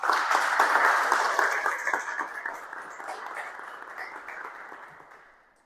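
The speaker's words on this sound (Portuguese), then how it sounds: "Vamos aplaudir a palavra de Deus." A church congregation at a prayer meeting applauding the word of God, a dense burst of many hands clapping that starts strong and gradually tapers off to silence over about five seconds.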